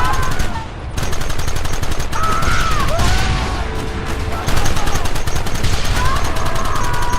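Gunfire from the video game Red Dead Redemption plays as dense, continuous rapid shots over a loud bed of game music and noise, with voices shouting over the shooting.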